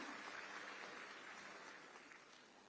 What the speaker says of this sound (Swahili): Wapigeni makofi.